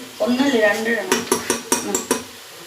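A spoon stirs tomato sauce in a cooking pan. A brief voice-like sound comes first, then a run of sharp metallic clinks and scrapes against the pan, close and moderately loud.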